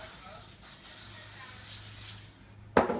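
Cooking oil sprayed from a can onto a burger patty press, a close, steady hiss lasting a couple of seconds, then a short sharper burst near the end.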